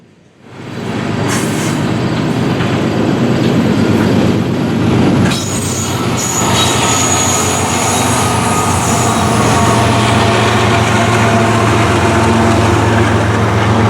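An empty BNSF aluminum coal train rolls past on the Creston Subdivision, a loud, steady rumble of wheels with screeching flange squeal and rail clatter that holds throughout.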